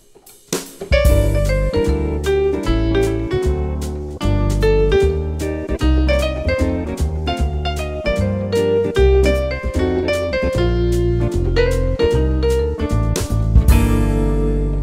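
Piano plays a jazzed-up version of a jazz standard's melody, with syncopated, embellished right-hand lines over steady chords, loud and close, alone without talk, ending on a held chord.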